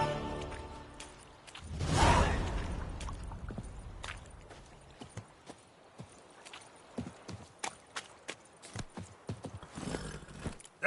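Roach the horse from The Witcher 3 trots with steady, close hoof clip-clops, following a brief snort or whinny-like burst near the start, with no talk over it.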